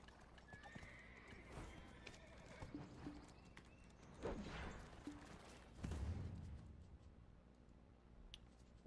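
Horses in an online game neigh and whinny while hooves clip-clop at a steady trot, with clicking interface sounds scattered across the scene and a few louder bursts of movement.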